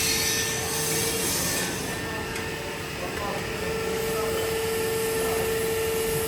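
Dener SX1560 sheet metal folder running in manual mode, a steady droning machine noise with a constant mechanical whine and faint rubbing, sustained close by for several seconds.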